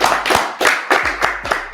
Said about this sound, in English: Can we clap it up for her?